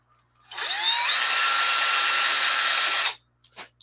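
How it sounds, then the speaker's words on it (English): A power drill whirs steadily drilling a hole for about two and a half seconds, then stops; a couple of faint clicks follow in the quiet afterward. "I need to drill one more hole."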